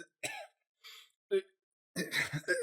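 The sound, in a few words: person imitating a slight cough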